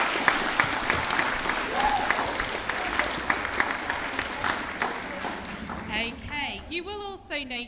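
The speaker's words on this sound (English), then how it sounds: "So I think those 4 deserve a massive round of applause," A crowd applauds four debate finalists at the Athelstan Festival of Speech and Debate with a hearty round of clapping and scattered loud claps, fading out as a voice begins talking at the end.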